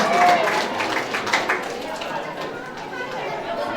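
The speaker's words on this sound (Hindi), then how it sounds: "जोरदार तालियों बजाते हैं, तालियों से स्वागत करते हैं" Applause breaks out at a school award ceremony as a prize is handed to a student, a steady patter of many hands clapping with voices talking over it.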